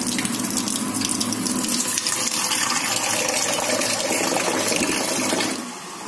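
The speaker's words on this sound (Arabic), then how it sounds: "هحط مية دلوقتي، مية سخنة" Hot water runs steadily from a tap into a cooking pot, a loud continuous splashing rush that eases slightly at the very end.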